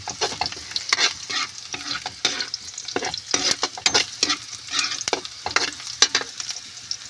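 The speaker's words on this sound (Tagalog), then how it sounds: "haluin na palabas ng aroma" Sisig with snails stirred in a hot frying pan, sizzling steadily while a utensil scrapes and clacks against the pan in irregular bursts, close up and with no voices.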